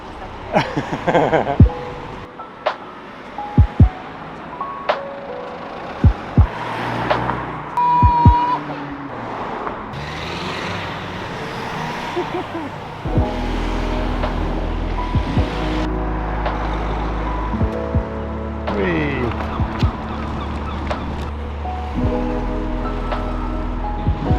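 Cars and trucks pass on a busy road, a steady traffic roar with passing whooshes and engine hum, loud and close, with occasional voices nearby.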